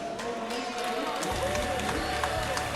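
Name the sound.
crowd cheering and clapping for players at esports tournament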